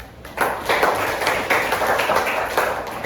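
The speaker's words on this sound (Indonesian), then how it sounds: "Oke, tepuk tangan." An audience at a university event claps after a brief quiet start, many hands producing a bright, moderately loud patter that continues to the end.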